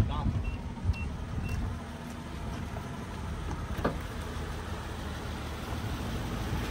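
A 2017 six-cylinder car engine of 378 horsepower idles with a steady low rumble, heard up close and continuous, with some faint background noise and a few brief clicks.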